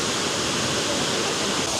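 Tocoihue waterfall on Chiloé Island, Chile, a continuous broadband roar of falling water, steady and moderately loud, with no clear voices over it.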